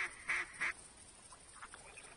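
Ducks in the hunting video game theHunter quack three times in quick succession, nearby and fairly faint, followed by softer scattered quacks trailing off.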